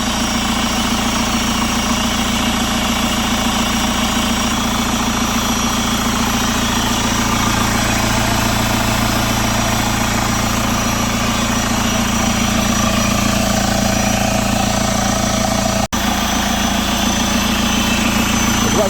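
The 2013 Chevrolet Captiva diesel idles in a steady, loud, continuous drone with a low hum underneath. It carries on without a break throughout, and no voices are heard over it.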